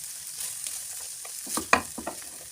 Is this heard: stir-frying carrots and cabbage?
yes